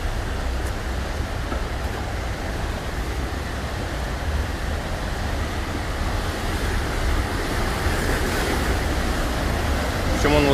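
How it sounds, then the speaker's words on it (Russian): Big waterfall hidden behind a rock, a steady broadband roar of falling water that stays loud and even throughout, with a wind-like rush and no voices. "Смотрите, сейчас я вам покажу водопад."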